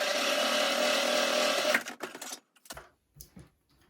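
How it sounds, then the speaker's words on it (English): A sewing machine stitches close to the edge of a fabric fidget quilt, running loud and steady for about two seconds before stopping, followed by a few faint handling knocks and rustles. "we're just going to seal up the top, just stitching as close as we can to the edge"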